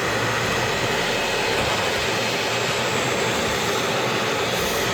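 A 6.5-inch, roughly 300 CFM electric fan runs close by, blowing a loud, steady broadband rush of air with a constant whirring hum and no change in level.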